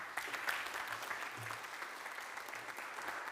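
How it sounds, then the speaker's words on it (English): A conference audience at a healthcare panel applauds a patient-forum speaker, with continuous, even clapping from a moderately sized crowd lasting the whole stretch without talk. "Let's give Valentina a round of applause"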